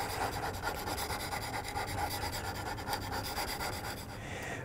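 A knife blade is honed on a sharpening stone in a school woodworking setting, with a steady, continuous rasping scrape that repeats in even strokes across the whole stone for several seconds, close and fairly loud.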